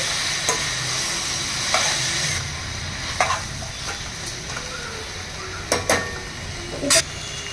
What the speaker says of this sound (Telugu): ఒకసారి బాగా కలపాలండి